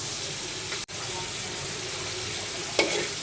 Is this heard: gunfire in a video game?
no